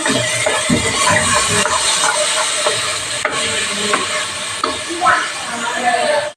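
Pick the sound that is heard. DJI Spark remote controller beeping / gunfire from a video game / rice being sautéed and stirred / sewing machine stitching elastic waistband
rice being sautéed and stirred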